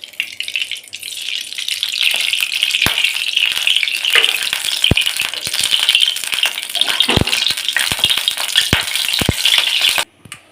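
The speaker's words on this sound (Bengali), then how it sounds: "সরষের তেল দিয়ে দিচ্ছি।" Mustard oil hits a hot wok while making aloo posto, setting off a loud, crackling sizzle with sharp pops and spatters that lasts about ten seconds before stopping abruptly.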